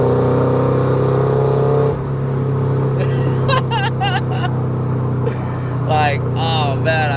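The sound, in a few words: Pandem widebody Toyota GR86 engine while driving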